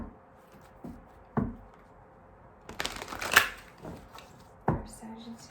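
Oracle cards from a Map Oracle deck are handled and shuffled in a few short, crisp rustling bursts against a quiet room, with soft talking in between.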